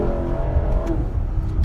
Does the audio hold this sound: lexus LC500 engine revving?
yes